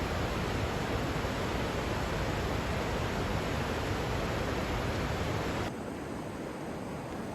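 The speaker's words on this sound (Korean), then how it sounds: "이렇게 너비가 넓은 폭포는 처음 봤다." A wide waterfall pours in a steady, loud broadband rush, continuous and close, easing slightly lower near the end; no voices.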